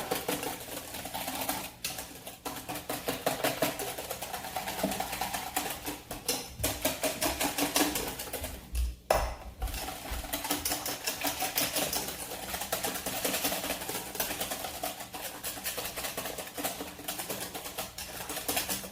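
An electric mixer whirs steadily through sugar for crème caramel, a continuous buzzing motor drone with rapid rattling texture that holds nearly unbroken, dipping briefly once, at a moderate, fairly close level.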